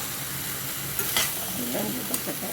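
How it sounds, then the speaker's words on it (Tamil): Cooked chickpeas tipped into a hot pan for masala sundal and stirred, a short steady sizzle with a few scraping, clinking stirs close by. "ஸோ இப்போ சுண்டலை கொட்டி நல்லா கலரி எடுக்க வேண்டியதுதான்"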